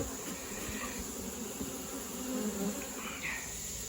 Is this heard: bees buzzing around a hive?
yes